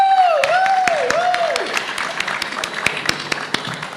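An audience at a World Mental Health Day event claps to welcome a speaker, scattered individual claps ringing out after a warbling tonal sound fades, sparse and fairly close.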